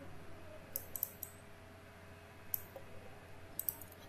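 Sharp, faint computer mouse clicks, a handful of single and double clicks spaced irregularly over a quiet room hum.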